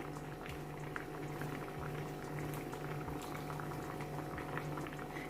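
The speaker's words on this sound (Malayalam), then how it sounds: "ഇതിലേക്ക് ഇനി രണ്ട് ടേബിൾ സ്പൂൺ വെളിച്ചെണ്ണ കൂടി ഒഴിച്ചു കൊടുക്കാം" Malabar-style Kozhikode fish curry (meen mulakittathu) simmers in a pot as coconut oil is added, giving a steady low bubbling and gentle crackle, fairly quiet and close, with no voices.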